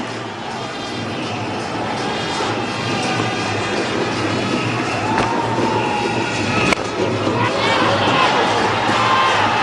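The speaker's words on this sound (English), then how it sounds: "lots of shouts of catch it" A large crowd at a cricket ODI between India and Sri Lanka shouts loudly for a catch, a dense sustained roar of many voices that builds and stays loud.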